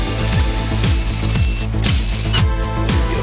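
A power drill grinds steadily up close, its motor pulsing in a regular rhythm as it bores a hole into hard material.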